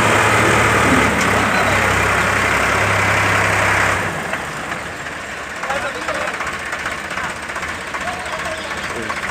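Farmtrac 60 and Sonalika 745 tractors strain in a pulling competition, heavy diesel engines roaring loudly and then dropping to a lower, rougher rumble, with people talking and shouting over the noise.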